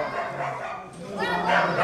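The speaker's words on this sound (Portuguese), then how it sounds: "E aqui tem 18 cachorros atrás dela." A pack of dogs crowds around a female in heat at a bar, their barks and yips overlapping in a dense, noisy jumble, with a voice mixed in.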